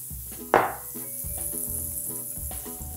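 Diced apples hit a hot coated pan for apple pie oatmeal, a sudden loud sizzle bursting up and then settling into a steady hiss beneath tonal background music.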